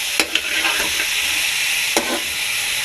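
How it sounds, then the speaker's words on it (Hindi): Beef cooking in oil in a home kitchen pan gives a steady, bright sizzle, broken by a few sharp stirring clicks near the start and again around two seconds in. "साथ में डाल दिया जी ऑयल। तो बस अब इसे अच्छे से हम पकाएंगे।"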